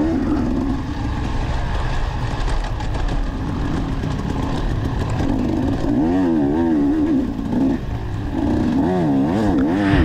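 A 300 dirt bike revs hard through a wooded race course in third gear. The engine drones loud and continuous, rising and falling in pitch as the throttle opens and closes, with no voices.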